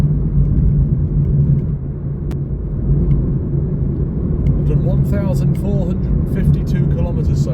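A car drives along the Great Ocean Road near Sugarloaf with a steady, low engine and road rumble. The drone continues under a voice throughout.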